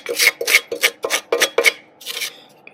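Plastic scraper rasping debris from inside a steel pellet smoker, a Lone Star Grillz unit: about seven rhythmic, close scraping strokes, then a softer final one, with no voices.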